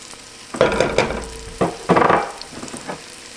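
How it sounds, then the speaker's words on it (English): Chopped onion dropped into a hot pot for a chicken pot pie soup, sizzling and frying in short bursts as it lands and gets stirred, moderately close with quieter crackle between. "Alrighty, so we're going to go ahead and put in our chopped onion."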